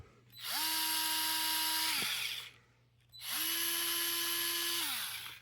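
Dewalt electric screwdriver running at full speed on its highest setting, two steady high-pitched motor whines of about two seconds each with a short gap between, close and loud with no talking.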